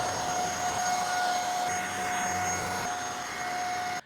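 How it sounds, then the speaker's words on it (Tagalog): A V30 Pro vacuum cleaner runs steadily on a sofa bed, giving a loud continuous motor whine with a high pitched tone and broadband suction hiss that holds throughout before cutting off at the end. "Itatry natin vacuumin tong sofa bed natin kung may madaming madadalang gabok."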